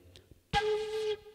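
An Igorot Alkat flute plays a single breathy, slightly wavering note with the finger holes not fully covered, about half a second long after a faint breath, close and fairly quiet.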